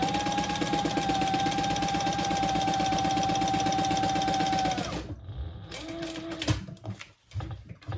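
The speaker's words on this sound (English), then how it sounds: "I'm going to turn that and top stitch it so it's nice and flat." Sewing machine top stitching a crossbody bag, running in one steady, fast continuous burst for about five seconds before stopping, followed by faint handling noises.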